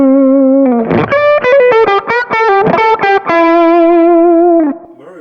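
A Kemper amp tone is distorted with a booster placed after the amplifier, heard as a loud, saturated electric guitar playing a sustained chord, then a burst of choppy strummed hits, then another held ringing chord that fades out.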